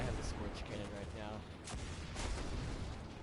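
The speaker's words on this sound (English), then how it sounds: "Scorch cannon is like having a bunch of grenades in your hand." A scorch cannon fires in the video game Destiny 2 with dense, rumbling grenade-like blasts and crackling explosions that run continuously for a few seconds, with a voice faintly under them.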